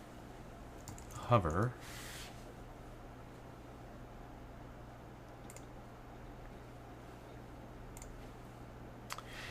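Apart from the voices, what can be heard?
typing on a computer keyboard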